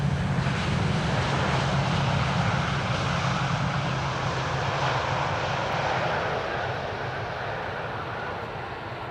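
A Saudia passenger jet, flight 215 from Jeddah, arrives at Schiphol's Polderbaan runway 18R with a loud, steady engine roar that slowly fades over several seconds, heard alone without talk.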